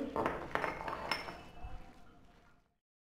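Jackfruit kebab ingredients with spices and salt being mixed in a bowl, with light clinks of a spoon against the dish that taper off and fade into silence.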